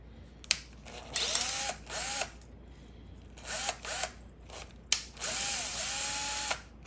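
Power tool whirring in short revving bursts while loosening a bolt on the hot side housing of a 6.4 Powerstroke VGT high-pressure turbo, close and fairly loud with brief pauses, no talking.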